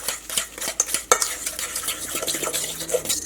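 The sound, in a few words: mixing coconut, egg and sugar together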